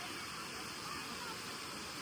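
A monsoon waterfall at Saputara hill station roars as a constant broadband rush, loud and unvarying throughout.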